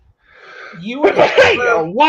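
A single sharp sneeze bursts out, followed by a pained vocal groan, close to the microphone.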